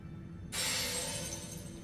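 A rainbow stone shatters in the video game Elden Ring, a sudden bright glassy crash that bursts in and then rings out and fades over about a second, heard alone over quiet background.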